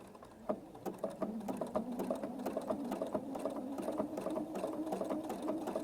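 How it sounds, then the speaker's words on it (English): A sewing machine stitches steadily around fabric, its rapid needle pattern running close and continuous for several seconds with no talking. "I'm just going to stitch around here again."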